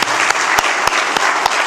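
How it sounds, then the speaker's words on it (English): Audience applause for the hosts at the opening ceremony of an annual general meeting, dense crowd clapping with a few sharp, regular thumps cutting through it. "can we have a round of applause"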